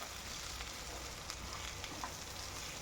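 Okra and peanut fry being stirred in a hot pan: a steady, close sizzle with a faint frying hiss and a few soft spoon scrapes, no talk.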